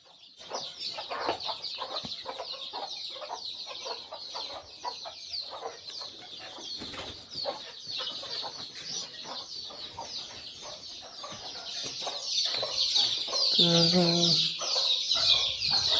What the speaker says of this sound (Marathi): हे आपण कोंबड्या आता सोडलेले आहेत